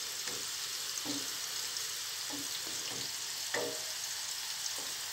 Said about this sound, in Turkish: nanemi de ekledim yağımın içine